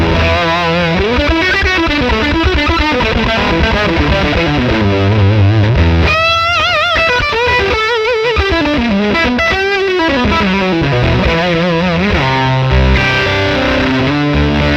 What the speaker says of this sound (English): Sounds really like an old school fuzz.